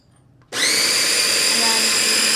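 A countertop blender whirs to life after a short quiet moment, running steadily and loudly as it purees a cottage cheese taco dip.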